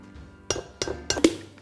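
A utensil clinks against a bowl while Greek yogurt is mixed, four distinct taps spaced a fraction of a second apart, close and fairly loud against a quiet kitchen.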